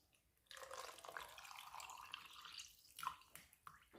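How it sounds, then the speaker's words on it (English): Water poured into a honey and ginger drink: a soft, close, splashing stream that starts abruptly, runs for a few seconds, then tapers with a few brief drips. "Pour some water in."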